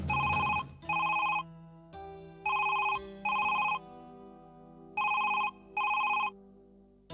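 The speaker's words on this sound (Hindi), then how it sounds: "कमल दीदी, शबू आपा, कमल का फोन।" Telephone rings in a home in a Hindi drama, six evenly spaced electronic double-tone bursts with short gaps between them, clear and close with no talking.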